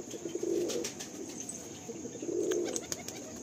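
A pair of Madrasi pigeons in a loft in Kolkata coo softly in two low, rolling bursts, with faint chirps and wing sounds in the background and no talking.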